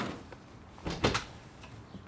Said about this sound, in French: ouvre la porte, Cook.